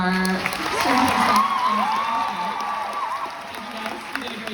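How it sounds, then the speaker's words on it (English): Applause from a convention panel audience at Fan Expo swells and then fades over several seconds while a voice talks over it near the start. "big round of applause for our"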